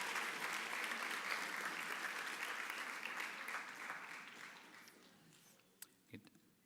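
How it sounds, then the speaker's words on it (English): Audience applause at a school science and engineering awards ceremony, a steady crowd clapping that gradually thins and fades, with a few sharp knocks at the end. "please give a round of applause"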